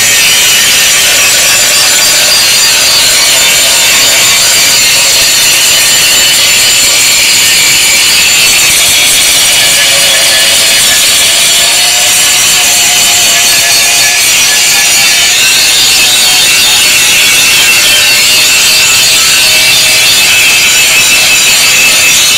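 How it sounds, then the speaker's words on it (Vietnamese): An angle grinder works against metal in one continuous, loud, harsh hiss of grinding that runs on without pause and with no talking. "Đó, mình mài trước ha."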